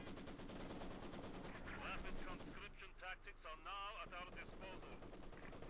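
Maxim machine gun fire in Company of Heroes 2, a rapid continuous stream of loud gunshots lasting several seconds, broken by a brief lull, under a commentator's voice.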